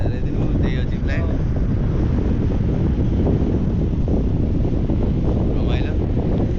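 Strong wind buffeting the microphone during a paragliding flight over Pokhara, Nepal, a loud, constant roaring rush with faint voices briefly audible beneath it.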